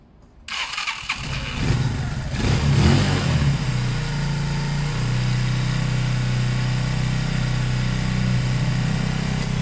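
A Zontes 125 motorcycle with its choke on starts after a short quiet moment and then settles into a steady, close idle that holds evenly to the end, with no voices.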